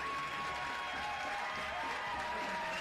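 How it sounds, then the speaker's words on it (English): Spectators at a men's soccer match between Union Omaha and Westchester SC give a steady, sustained ovation as a player leaves the field, a broad wash of clapping with a faint crowd murmur beneath. "Sergio Ors Navarro exits to a thunderous applause."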